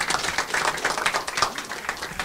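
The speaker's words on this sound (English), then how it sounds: "If you would, please, big round of applause for Dr." A lecture audience claps, a dense, moderately loud patter of many hands that holds steady throughout, with no voices heard.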